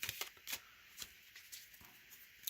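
Playing cards shuffled by hand, an overhand-style shuffle, quick soft riffling flicks and slaps at an irregular rhythm, close and quiet with no talk.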